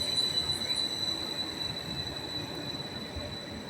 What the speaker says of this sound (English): Here is 755 333 on a service from Peterborough to Ipswich